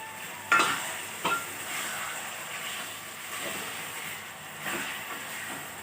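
Chicken pieces and tomatoes frying in a pan over low gas heat, a steady soft sizzle with a few louder stirring scrapes and clatters near the start and middle, no voices.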